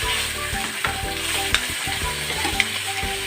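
Fenugreek seeds sizzle steadily in hot oil in a wok, a loud continuous frying crackle with a couple of sharp spatula clicks, and no voices.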